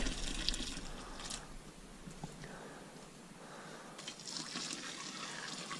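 Homebrew beer liquid draining and dripping into a plastic cube, soft splashing and trickling with uneven bursts of pouring, close and fairly quiet, and a faint voice at times.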